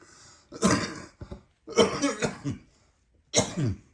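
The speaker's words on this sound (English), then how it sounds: "hang on, I'm trying to cough" A voice acts out a character coughing in three hoarse, throaty bursts with a bit of throat clearing, close and clear with short pauses between.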